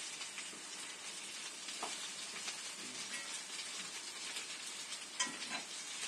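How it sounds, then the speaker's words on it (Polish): Continuous crackling sizzle of cutlets frying in a hot pan, steady and close, with small pops scattered throughout. "Kotleciory się smażą."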